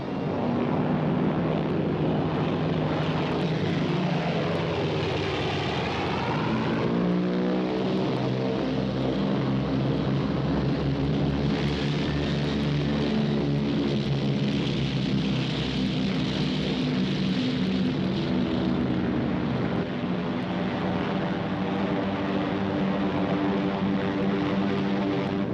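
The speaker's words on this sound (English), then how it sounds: "they would send their bombers to blast it from the face of the earth" Heavy propeller engines of WW2 Japanese bombers attacking a Chinese city drone continuously and loudly for the whole stretch. The deep, throbbing roar slowly shifts pitch as the aircraft pass overhead.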